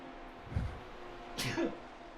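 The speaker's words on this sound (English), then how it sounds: "Oh, I had to sneeze." A single sneeze bursts out mid-clip, close and fairly loud, preceded by a soft breathy sound against a low steady background hum.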